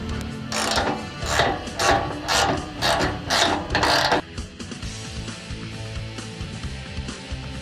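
Ratchet tightening bolts of a Westin E-Series bull bar under a 2007 Toyota Tundra, a run of rhythmic clicking strokes, close and fairly loud, then quieter mechanical fiddling.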